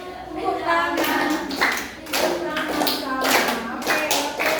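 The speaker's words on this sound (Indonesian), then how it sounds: "Tepuk tangan." Children in a classroom clap their hands in a series of sharp, uneven bursts, each one near and fairly loud, with light voices mixed in between the claps.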